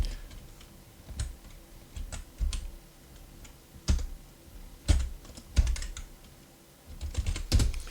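Someone typing a Linux install command on a computer keyboard, close clacking keystrokes in short irregular bursts with pauses, a few louder thumps like the space or enter key, no voice.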